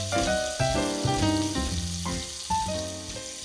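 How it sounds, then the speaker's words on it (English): Pancetta frying in olive oil in a pan, a steady sizzling hiss running the whole time beneath louder background music. "as it's frying into the olive oil, is rendering not only its own fat into the olive oil"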